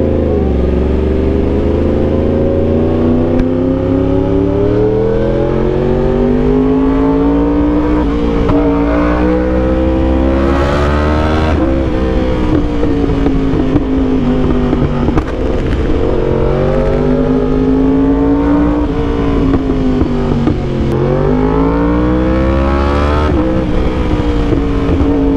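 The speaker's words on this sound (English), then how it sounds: "Ang lalaki at ang lalakas ng backfire." A Yamaha R1 with an SC Project exhaust, loud and close, its engine note rising and falling in sustained revving sweeps across a long run, with occasional sharp bursts.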